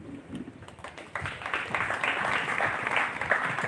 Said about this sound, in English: A round of applause for our prosecutor.